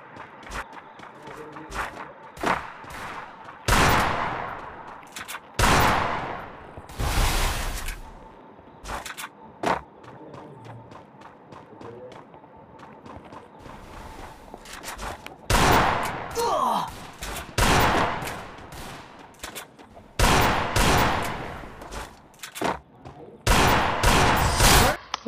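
Repeated bursts of gunfire from a Free Fire 2v2 custom match, loud rapid volleys and fusillades broken by short pauses, with footsteps and thuds in between across the whole stretch.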